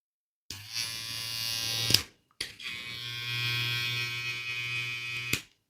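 An Opove T6 detachable hair trimmer with a brushless motor and cycle blade runs in two steady bursts of about a second and a half and three seconds, a bright, even electric buzz with a low hum and a short silence between.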